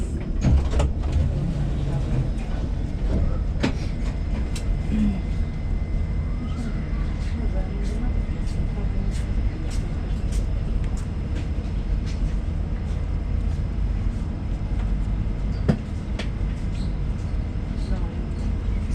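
Train riding through a deep station toward Jerusalem's Old City, with a steady low rumble and rolling drone throughout, faint clicks and clatters of the carriage, and a voice announcement over the noise.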